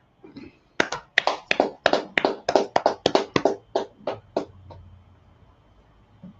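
Hands clap sharply in a steady run of about fifteen loud, close claps that slow and fade out, with a low hum left after.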